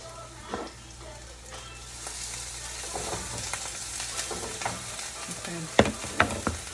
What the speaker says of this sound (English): I'm going to add some of the onions in the pan and some scallions. I just want to mix this up